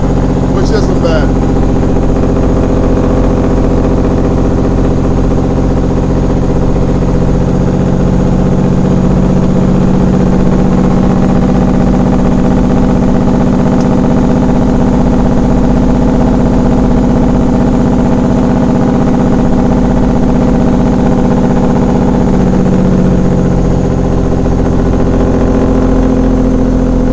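A Peterbilt 379 truck with a CAT engine and 7-inch straight pipe climbs a 7% grade in 7th low, its deep, steady engine drone loud and continuous throughout with no break.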